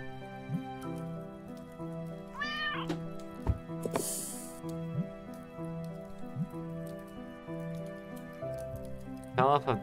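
A cartoonish cat meows in the video game Children of Silentown, a few short rising mews over a steady musical game soundtrack with dripping accents, with a person's voice also present.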